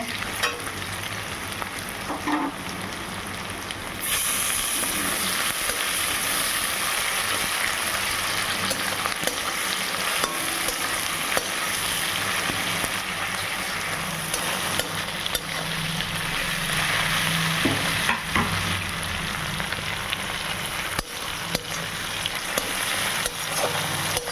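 Garlic paste and chopped tomato fry in a pan with a dense, loud, unbroken sizzle that swells after a few seconds and keeps hissing steadily, with faint scraping stirs now and then.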